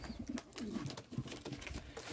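Yellow Czech show pigeons being released into a new dovecote coo in soft, repeated bursts close by, with rustling and fluttering between calls.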